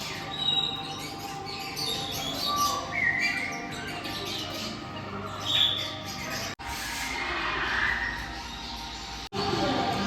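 Birds in a zoo aviary, at Turkey's largest zoo, give scattered bright chirps and tweets over a constant busy background wash, with a few sharper calls standing out here and there.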